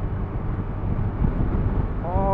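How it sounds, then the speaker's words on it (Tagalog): Strong wind buffeting the microphone in a low, gusty roar while riding a Bajaj Dominar 400 motorcycle; a voice begins speaking near the end. "Oo, lakas ng hangin."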